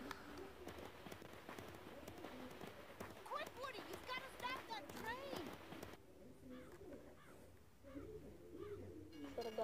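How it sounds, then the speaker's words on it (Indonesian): A crow caws several times in the Western Playtime level of the Toy Story 3 video game, mixed with game effects such as hoofbeats and music, while a person talks over it. "Suara gagak."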